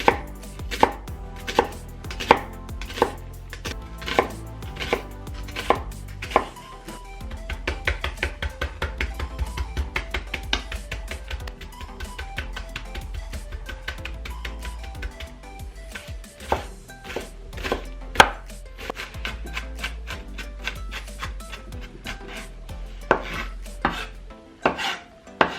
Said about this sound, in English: Chop onion.